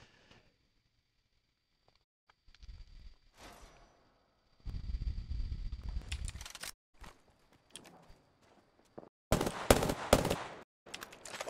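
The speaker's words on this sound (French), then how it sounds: "Moi je prends des tirs de guet loin carrément." Gunfire in the battle royale game Apex Legends comes in separated bursts: a few quiet shots early, then a long rattling volley near the middle and a sharp, loud cluster of shots toward the end, with silent gaps between them.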